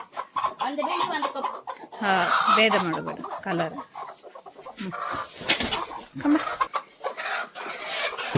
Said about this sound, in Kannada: ಇದು ಇವತ್ತಿನ ಜಕ್ಣಿ ಕೋಳಿ ಯಾವ್ದು ಹಿಡ್ಕೊ ಹಿಡ್ಕೊ ಪಟ್ಟ ಹಿಡ್ಕೊ